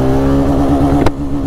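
A TVS Raider 125 motorcycle engine pulls hard in first gear, a loud steady droning note that holds, then cuts briefly near the end as if shifting.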